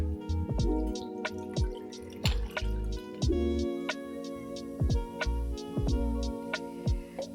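Liquid splashes and drips into a glass in short bursts, with light clinks and trickles close by, no talking.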